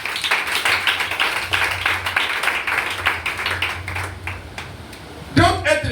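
A church congregation claps in dense, rhythmic bursts, lively and fairly close, with voices cheering and calling out beneath; the clapping fades toward the end as a voice breaks in.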